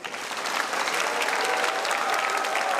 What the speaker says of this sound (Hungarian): kérem, köszöntse őket most taps és ováció.